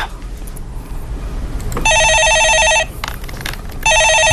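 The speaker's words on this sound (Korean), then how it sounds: "예, 전화 받아보겠습니다." Telephone ringing with two loud electronic ring bursts separated by a short pause, near and clear over a faint room background.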